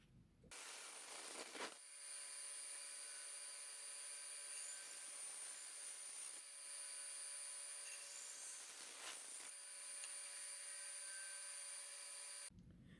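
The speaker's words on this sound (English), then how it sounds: "I think I'm going to do that on the bandsaw" A bandsaw cuts a wooden dowel, flattening it for a tin can guitar neck, giving a steady high whine with a gritty cutting rasp that runs for about eleven seconds between quieter start and stop.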